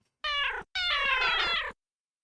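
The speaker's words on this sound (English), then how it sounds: "You can meow." A cat meows twice in a video game, Dante's 9, with a short bright call followed by a longer drawn-out meow, close and clear against silence.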